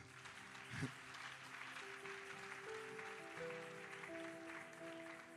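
Applause from a church congregation rolls on as a steady, dense wash of clapping, with sustained organ or keyboard tones beneath it and a single heavy thump early on.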